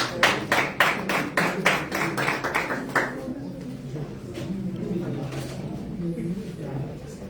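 A quick burst of steady, rhythmic clapping welcoming a football coach rings out for a few seconds, then fades as talking carries on over the room.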